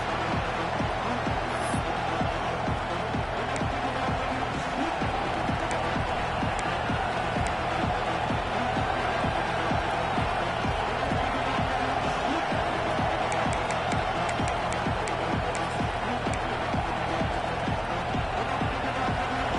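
A packed American football stadium crowd roars steadily at a game, a dense, continuous wall of distant cheering that never drops away.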